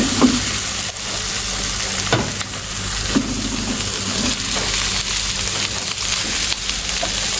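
Chicken liver hitting wilted shallots in a pan, a steady loud sizzle and frying crackle with occasional scraping knocks from stirring, with no talking.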